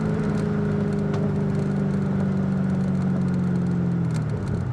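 A supercharged 4.6 V8 in a 2005 Ford Saleen convertible hums steadily under acceleration, then its pitch drops near the end as it downshifts, heard from inside the car with constant road noise.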